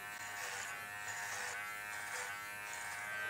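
A dog clipper running on high hums and buzzes steadily up close as it cuts through a Goldendoodle's thick, dirty coat, the tone wavering slightly as it moves through the fur.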